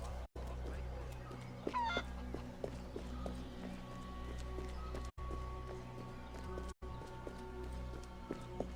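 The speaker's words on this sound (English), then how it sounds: "I think it is gonna make us chase the chicken." Chicken in the video game Assassin's Creed Liberation: faint clucks and a brief squawk over low ambient game background with soft footsteps and brief dropouts.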